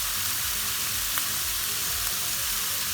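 Garlic, jalapeño and mushrooms fry on very high heat, giving off a steady, close sizzle with a constant hiss throughout and some soft stirring movement underneath.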